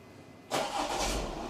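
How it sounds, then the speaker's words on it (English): A car engine, started by remote start, cranks and catches abruptly after a moment of near silence, then settles into a steady, close idle. "And the car starts."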